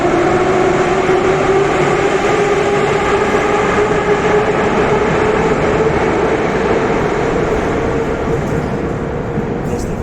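Loud, continuous rumble and roar of metro trains in a windy underground station in Russia, a steady wheel-and-motor drone with a whining tone running throughout.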